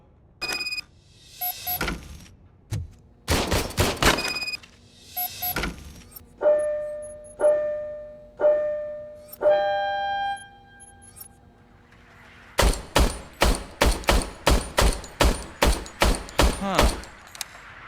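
Shots from an old service pistol in the video game RoboCop: Rogue City, first a few scattered reports, then a rapid, evenly spaced string of sharp bangs near the end, with no voices.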